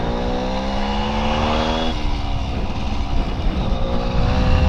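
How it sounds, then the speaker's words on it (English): A 1971 Kawasaki G3SS 90cc vintage motorcycle buzzes along country back roads, its small engine loud and close, pitch holding steady then dropping at a gear change amid wind rumble. "On my grandpa's Kawasaki 1971 G3SS,"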